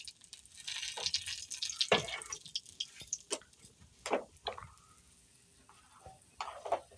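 A bay leaf goes into hot oil in a pan, giving quiet, intermittent sizzles and crackling pops that come and go over several seconds with no talk.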